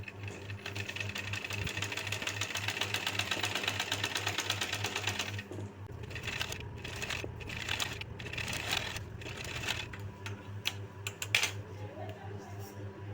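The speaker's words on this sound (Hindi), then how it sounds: "गले पट्टी को आगे कर लेनी है और किनारे में एक बार और सिलाई चलानी है।" Sewing machine running a line of stitching along a neckline strip on a garment, a fast steady whir for several seconds, then slower intermittent bursts, with a voice speaking underneath.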